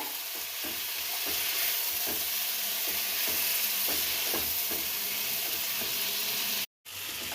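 Salted chicken meat fries in a pan under a steady loud sizzle, with regular scraping stir strokes and a brief dropout near the end.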